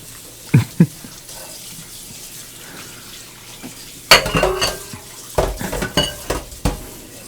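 Dishes, pots and cutlery clatter in a kitchen sink during washing, with two sharp knocks early on, then a busier stretch of clinking and splashing water in the second half, fairly close and with no talking.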